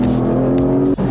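A race car engine in a racing simulator game revs at high, steady pitch for about a second, then dips sharply as the throttle lifts, loud and close.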